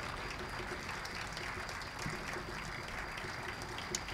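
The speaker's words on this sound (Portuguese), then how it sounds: "Uma grande salva de palmas para ele." Sustained audience applause for the conductor at a choir and fado concert, heard as a steady, busy roar of many hands clapping at an even level throughout, with a few sharper claps near the end.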